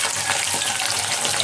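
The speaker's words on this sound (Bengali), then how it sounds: "চিকেনটা আমার ভাজা হয়ে গেছে।" Chicken pieces for restaurant-style chilli chicken frying in a pan, a steady dense sizzle filling the brief moment with no voices.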